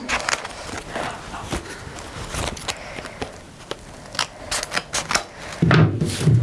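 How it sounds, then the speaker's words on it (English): Scissors trimming the edges of glittery card for a Christmas snowy hills craft, giving a series of crisp snipping and rustling sounds close by, with no talking. "So let's just trim off the edges here."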